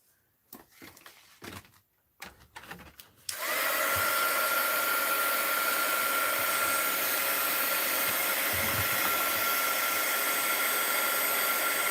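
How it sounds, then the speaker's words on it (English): Heat gun blowing hot air to melt an object: after a few seconds of scattered handling noises, a steady loud whooshing roar switches on and runs unbroken, with no talk. "Let's hit it with the heat gun and see how it melts."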